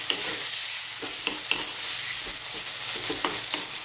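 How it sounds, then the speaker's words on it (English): Chopped fresh tomatoes sauté loudly in a pan with a dense, close hiss of frying, punctuated by irregular clacks and scrapes as they are pushed around. "And just for about 3 minutes or 4 minutes, let's just saute these around."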